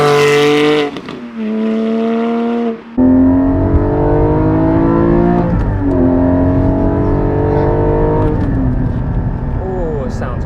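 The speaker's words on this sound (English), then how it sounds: "4-liter flat 6, 414 horsepower. One of the best engines on the market." The 4-liter flat-six of a 2020 Porsche Cayman GT4 rises and falls through several loud, close revs with sharp gear changes, the pitch climbing repeatedly over a steady engine drone.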